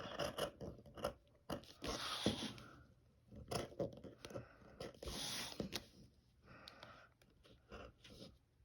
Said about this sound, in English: take my fabric shears and let's cut that